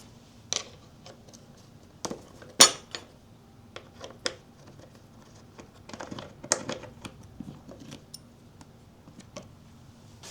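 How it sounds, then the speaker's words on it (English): A 5mm Allen key works a bolt loose on a KLR 650 motorcycle, heard as faint, scattered metallic clicks and ticks that are close and sparse, with a few sharper taps, over a quiet background. "Mine is a 5mm Allen key, so we're going to just pop that off real quick"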